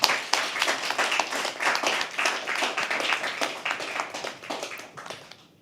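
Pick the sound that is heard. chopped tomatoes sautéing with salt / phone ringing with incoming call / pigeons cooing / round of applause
round of applause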